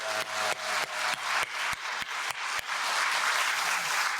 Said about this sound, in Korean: 우리도 뜨거운 박수로 찬양합니다.